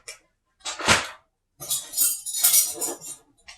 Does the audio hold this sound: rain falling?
no